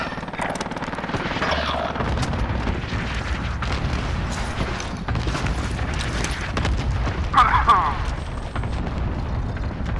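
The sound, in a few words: cluster strike explosions in video game Call of Duty: Modern Warfare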